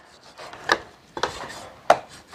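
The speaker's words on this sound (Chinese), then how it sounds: "第一步的话就是给它切成薄片" A knife slicing beef shank into thin slices on a board, three separate crisp cutting strokes spaced apart, close and clear, with quiet between them and no talk.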